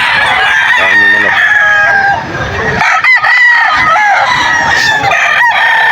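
Several roosters crow loudly over a busy chorus of clucking chickens at a crowded pet market at 5 a.m., with overlapping calls throughout and a brief dip in the middle.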